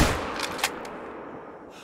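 A rifle shot in the hunting game theHunter: Call of the Wild, one sharp loud crack at the start followed by a few fainter reports and a decaying rumble that fades out.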